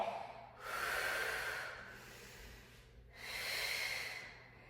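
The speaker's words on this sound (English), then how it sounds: "And we're breathing deeply here." Two slow, deep breaths during an at-home banded mat Pilates workout, each a long, airy inhale-exhale swell heard up close with a pause between, no talking.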